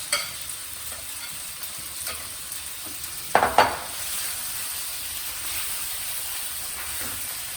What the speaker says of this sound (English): Now, we are going to add in our beautiful Thai peanut sauce.